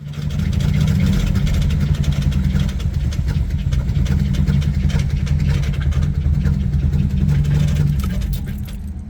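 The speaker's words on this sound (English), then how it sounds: "rewarded after first gear with a insanely bad misfire and probably some of the worst noises I've ever heard out of this car" A car on Power Tour 2023 runs with a badly misfiring engine after a hard launch, giving a loud, rough, sputtering low drone that stays steady for several seconds before easing slightly at the end.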